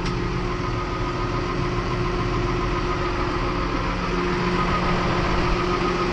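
A Ford New Holland tractor engine idles close by with a steady, even low rumble and vibration that holds unchanged throughout.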